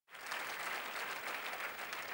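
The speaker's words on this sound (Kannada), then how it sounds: "ಹೌದೆನ್ನುವರು ಜೋರಾಗಿ ಚಪ್ಪಾಳೆ ತಟ್ಟುವೀರಾ?" A church congregation claps loudly together, the applause starting abruptly and holding as a dense, even wash of hands for the rest of the moment, with no voices over it.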